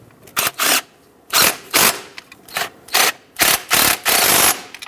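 Ratcheting bursts from tightening the two mounting nuts on a harness bracket of a 1999-2007 Ford F-350 7.3L Powerstroke, about eight short, loud, close clicking runs separated by brief pauses.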